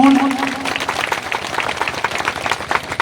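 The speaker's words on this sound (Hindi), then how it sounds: "जोरदार ताली" A crowd at a traditional oath-taking ceremony in Lohardaga district claps in uneven bursts, with some individual claps standing out, and voices heard faintly alongside.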